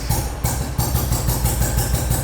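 A vintage motorcycle engine idles close by with a deep, rhythmic exhaust thump, regular pulses repeating steadily throughout.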